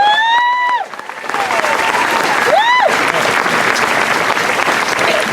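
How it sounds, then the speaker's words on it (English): A crowd at a school opening-day assembly breaks into sustained applause for the seniors, loud and dense, with a few voices whooping over it. "A round of applause for our seniors."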